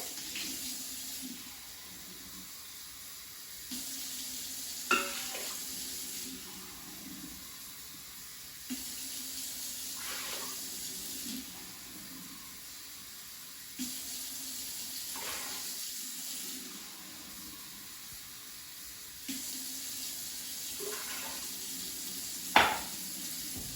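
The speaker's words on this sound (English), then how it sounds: "And I'm going to add 4 cups of water. Make sure it's cold water." Cold water runs in several separate bursts into an Instant Pot, a quiet hissing flow repeated about five times with short pauses and light clinks between.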